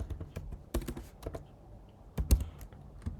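Typing on a computer keyboard, a few quiet isolated key taps and short bursts of clicks, close and alone without speech.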